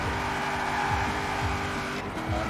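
A car in the Forza Horizon 4 racing game accelerates under steady, loud engine drone, with revving tones sweeping up and down continuously and a brief dip near the end.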